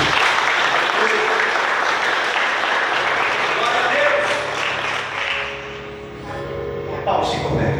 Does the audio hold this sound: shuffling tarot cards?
no